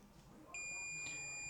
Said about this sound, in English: we hear the beeping for short